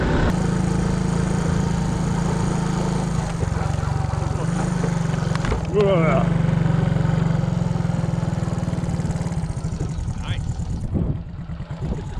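Old Honda Cub motorbike engine droning and chugging steadily while riding, loud and close throughout with a rough low throb and brief shifts in pitch, with voices talking over it.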